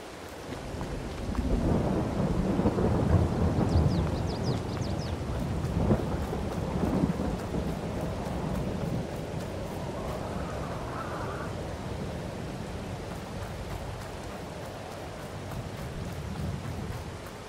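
Rumbling thunder rolls over steady rainfall in the game Farming Simulator 22, a deep low peal early on fading into continuous hissing rain, with no voices.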